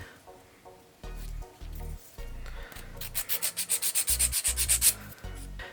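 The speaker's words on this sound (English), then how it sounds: "I'm just going to be using a regular file" A regular nail file rubs back and forth over a polygel nail, giving close, steady rasping strokes that speed into a quick rhythmic run of short scrapes near the end.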